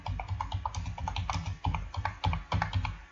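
Rapid typing on a computer keyboard, a quick uneven patter of close key clicks and taps running continuously.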